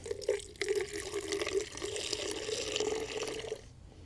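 Water glugs and splashes as it is poured out of a John Deere bottle outdoors, a steady close stream lasting a few seconds before stopping abruptly.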